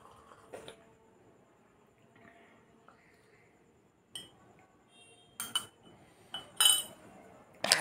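A spoon clinks against a cup or bowl while stirring a mixture, giving sparse, bright metallic taps in small clusters with quiet gaps in between, close to the listener.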